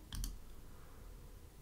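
A computer mouse clicks twice in quick succession, sharp and close, in a quiet room with faint background hiss and no talking.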